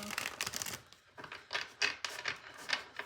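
Tarot cards being shuffled by hand in a quiet room, a series of soft papery riffles and rustles coming in short bursts with brief pauses, close and faint.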